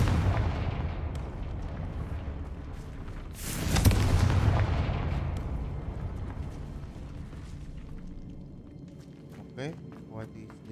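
Confringo fire spell blasts in Hogwarts Legacy combat, a rumbling booming burst rising over a constant roar of game action, with a spoken voice over the noise.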